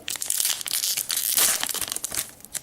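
A Yu-Gi-Oh! 2015 Pack Etoile ARC-V booster pack's foil wrapper is torn open up close, a loud, continuous crinkling and ripping with sharp crackles along the way.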